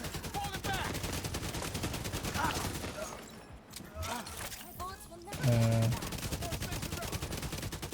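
Rapid automatic gunfire in a video game, dense bursts of shots with a brief lull midway, then continuing loud and near.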